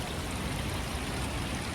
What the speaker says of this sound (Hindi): देखो पानी कितना आ रहा है यहाँ से।